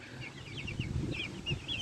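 A Rhode Island Red rooster on a backyard spring homestead making soft, repeated clucking calls, fairly faint, with low ambient rumble underneath and no crowing.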